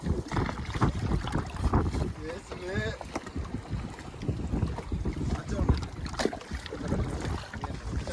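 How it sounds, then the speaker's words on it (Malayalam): Strong wind buffets a deep-sea fishing boat anchored offshore, a dense roaring rush with gusting microphone noise and water slapping, a brief voice rising faintly underneath. "കാറ്റ് അത്യാവശ്യം നല്ലപോലെ കൂടിയിട്ടുണ്ട് കേട്ടോ"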